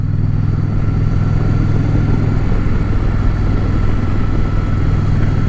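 Indian Challenger Dark Horse motorcycle with a liquid-cooled engine runs steadily, a close, continuous low throbbing hum with a faint mechanical clatter, loud and unbroken throughout with no voices.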